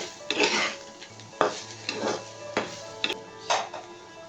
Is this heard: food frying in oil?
yes